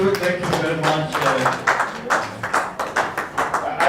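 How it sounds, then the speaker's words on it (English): An audience at a pedagogy sharing event claps in a crowd, with dense, close, uneven clapping that thins toward the end into scattered separate claps, mixed with some voices. "I think that deserve a better clap"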